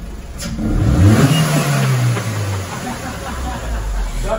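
A car engine roars on a dyno after a performance air filter is fitted, its loud revving pitch sweeping up and then easing down across the clip, with a steady mechanical whir underneath.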